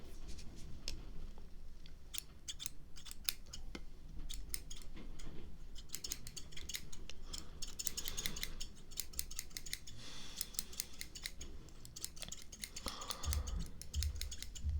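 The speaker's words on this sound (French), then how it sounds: "et bien on va faire tout ça au ciseau" Hairdressing scissors snip through hair in a close, quiet ASMR haircut role play, with rapid crisp clicks arriving in bursts and short pauses, no talking.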